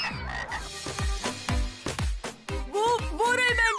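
Cartoon frogs croak loudly and repeatedly in quick, bouncy bursts, forming a dense, rhythmic chorus of close, resonant croaks with no talking.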